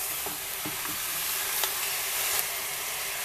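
Pig's feet cook in a pot for a Brazilian pé no pescoço recipe while a spoon stirs them, a steady loud sizzle and hiss with a few faint knocks from the stirring.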